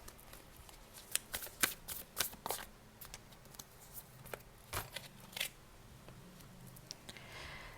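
Romance angel cards are shuffled with soft, irregular flicks and riffles, close but quiet, thinning out toward the end with no talk over them.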